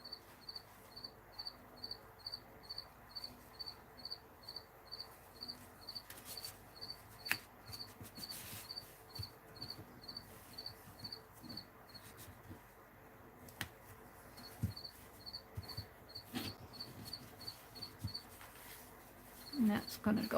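A single cricket chirps in slow, steady regular pulses, faint and continuous in a quiet room, with soft background rustles and a few clicks.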